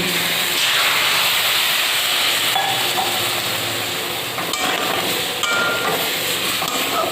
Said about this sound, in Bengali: এর মধ্যে গরম জল দিয়ে দেবো